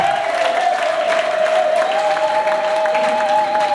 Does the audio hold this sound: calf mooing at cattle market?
no